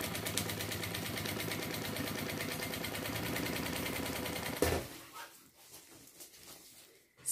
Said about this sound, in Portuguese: agora eu vou vir costurando de lá pra cá